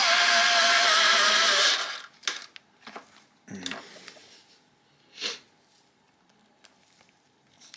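Battery-powered electric screwdriver working on a scooter: a steady, loud motor whir for nearly two seconds, then a few short clicks and bumps of handling at close range.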